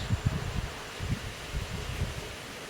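Strong typhoon wind gusts in uneven low rushing bursts that swell and fade, close to the microphone, with little rain and no talk.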